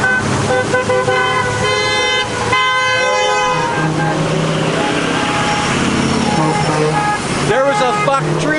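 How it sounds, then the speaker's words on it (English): Freedom convoy trucks roll through downtown Nanaimo, their horns honking in long, overlapping blasts over a steady engine and traffic roar, loud and close throughout. "this freedom convoy is heading downtown Nanaimo"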